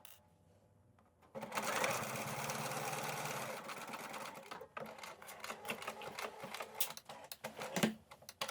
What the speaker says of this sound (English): you can sew this seam again with a 5/8 of an inch seam allowance